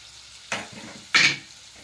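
Onions tipped into a pan of frying fish pieces for a Telugu fish curry give two sharp bursts of sizzle, the second louder and brighter, each fading into a steady crackle of hot oil.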